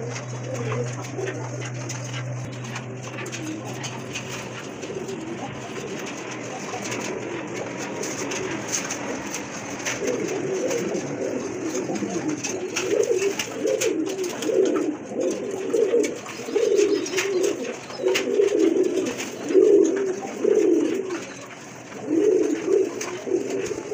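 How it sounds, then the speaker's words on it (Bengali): Red-beaked pigeons coo in a steady, rhythmic series of soft, low calls that grow louder and more regular in the second half, close by, with light background noise and no talking. "না লাল ঠোঁটের কবুতর"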